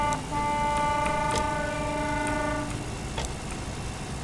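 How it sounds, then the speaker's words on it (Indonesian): Ship horn in the Fishing: Barents Sea video game at sea, a sustained layered tone holding loud for about two and a half seconds before cutting off, leaving a steady rumbling background. "Nah. Klakson."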